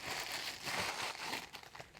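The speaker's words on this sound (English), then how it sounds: "I apologize for the loud paper rustling." Paper crinkles and rustles continuously at close range, a dense crackling of handling with no speech.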